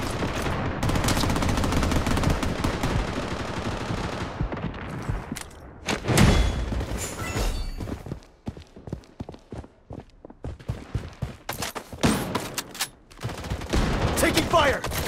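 Rapid automatic gunfire from a SCAR Damascus rifle in the Blood Strike shooter game, heavy sustained bursts that give way to scattered shots and footsteps, with some game voice callouts mixed in.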